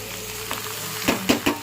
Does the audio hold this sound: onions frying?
yes